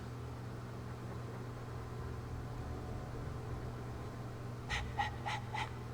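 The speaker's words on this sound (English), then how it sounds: "All that noisy dog breath, day in, day out." A dog in Dragon Age II pants loudly in four quick, close breaths near the end, after a long stretch of low steady hum.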